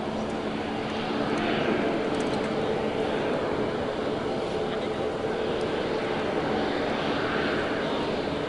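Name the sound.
Airbus A350 jet engines after landing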